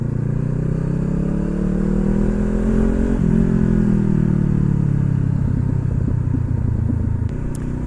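A motorcycle engine hums and revs steadily while riding, pitch rising and falling with a gear change, loud and close with no talking.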